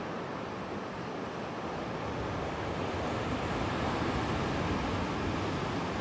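A continuous roar of surf with wind, large waves breaking in a steady wash, no voices.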